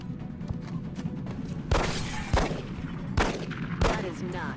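Rapid gunfire bursts from XCOM Long War reaction shots, several sharp loud cracks landing at irregular intervals over a steady game background bed.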